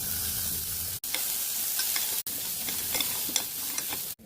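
Mustard seeds and turmeric fry in a little oil for a curry, giving a steady broadband sizzle with brief crackles and pops and two short dropouts, close and fairly loud with no talk.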